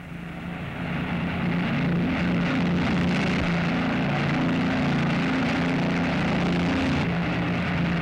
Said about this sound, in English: Three forces of 4-engine bombers assemble at dozens of airfields.